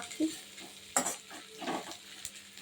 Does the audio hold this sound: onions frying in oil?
yes